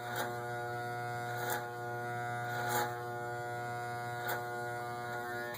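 Electric hair clippers buzzing steadily at close range during a neck taper fade, a constant humming drone with a few short surges as the blades work through the hair.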